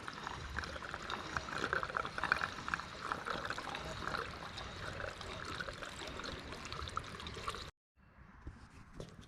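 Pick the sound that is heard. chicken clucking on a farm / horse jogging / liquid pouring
liquid pouring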